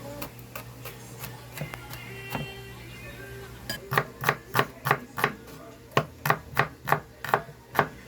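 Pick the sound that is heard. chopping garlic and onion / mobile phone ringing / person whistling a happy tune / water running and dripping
chopping garlic and onion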